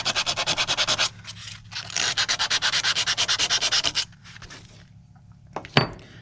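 Rusty, pitted metal is sanded by hand in fast, rhythmic back-and-forth rasping strokes in two close bursts, followed by quieter scuffing and a single sharp knock.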